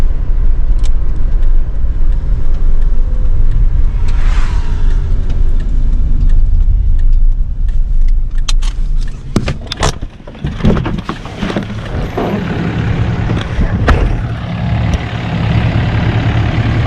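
A 25-year-old Dodge Neon ACR with a thrown rod drives slowly at low revs, its engine a steady rumbling drone, with scattered clunks and rattles growing busier toward the end.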